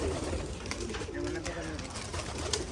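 Giribaz pigeons coo faintly at a large pigeon farm, their low murmurs half buried in steady broadband background noise.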